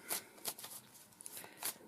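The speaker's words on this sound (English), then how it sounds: "I shall just see how they shuffle" An Animal Spirit oracle card deck being shuffled by hand: several soft, papery riffling bursts up close, with short pauses between them and no talking.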